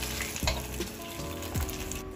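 Fish pieces for fish chukka fry in oil in a pan, a dense close sizzle punctuated by two soft thumps as pieces are turned, with no talking.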